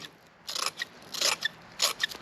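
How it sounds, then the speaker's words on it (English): Scissors snip chopped strand mat fiberglass into short fibers, a series of close, crisp cuts in irregular bursts with faint rasping between, no talking. "took scissors and just cut a lot of little short fibers just like so"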